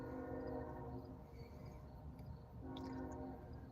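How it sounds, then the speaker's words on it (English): A train rolls past somewhere behind an alley near a house, a steady low rumble with drawn-out horn-like tones that ease off midway and then return, quite far off and alone with no talk over it. "I got a train coming by here, man. We got the train in the background."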